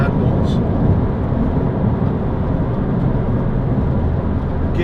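A 2006 Toyota MR2 1.8 VVT-i roadster sweeping around a roundabout, its engine and road noise forming a steady, loud, broadband rumble from start to finish with no distinct events.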